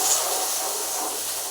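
Onions, green chillies and curry leaves sauté in a pan for chicken kuzhambu, giving a short, close, steady hissing sizzle.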